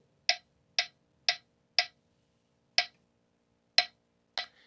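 Sharp metronome app clicks at 60 BPM in quarter notes come through close and dry. The clicks are steady at first but grow uneven toward the end, with wider gaps between them and no voices.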